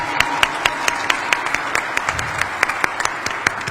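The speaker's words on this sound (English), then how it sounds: "How about a round of applause for Miss Becca?" An audience applauds at an annual military test wing awards ceremony, with irregular sharp hand claps from a modest crowd rising above the room's steady murmur.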